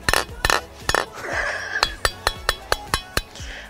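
A knife taps repeatedly against a hard ostrich egg shell, about a dozen sharp, bright clinks in a fairly even rhythm, close and clear.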